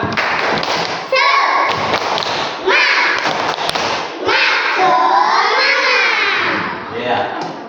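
A class of children performs the 'tepuk semangat' clapping chant, with loud rhythmic claps and thumps under energetic group chanting and shouting, close and lively throughout.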